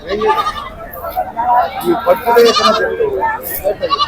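Large goats bleat repeatedly at Pebbair livestock market amid a lively crowd, with people talking and calling around them at close range.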